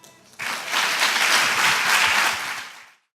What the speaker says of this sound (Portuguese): eu quero que você receba com palmas o pastor Wellington Espínola